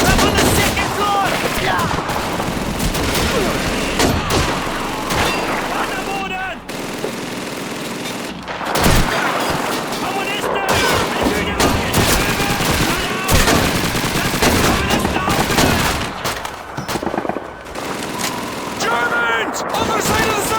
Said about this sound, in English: Machine gun MG-42 up on the second floor!